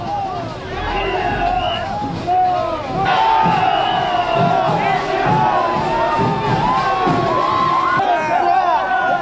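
A large crowd roars and cheers at the Yeongsan tug-of-war festival, loud and continuous with shouts and battle cries rising over the din outdoors.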